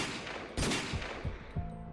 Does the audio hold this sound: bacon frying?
no